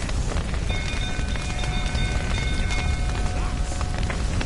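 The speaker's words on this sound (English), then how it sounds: "Looks like rain." Steady rain hiss fills a video game scene near a burning barn, a dense continuous wash with faint tonal lines from music or effects running through it.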